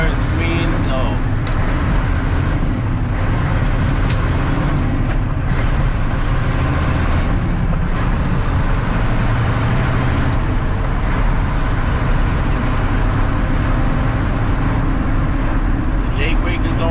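Loud, continuous engine roar from a heavy truck with an 8LL manual transmission and its Jake brake engaged, heard from inside the cab with a constant low rumble, whining tones and occasional clicks throughout.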